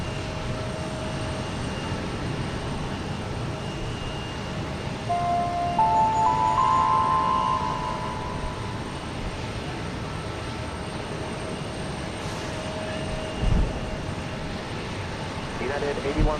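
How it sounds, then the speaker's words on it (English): A United Boeing 737 Max 9 airliner arriving at Houston Intercontinental makes a steady, distant broadband jet roar that swells slightly midway, with radio voices talking over it. "This is United 1927, arriving from Tampa, Florida,"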